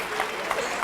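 A studio audience at a French television game show breaks into applause, a brief burst of dense, even clapping.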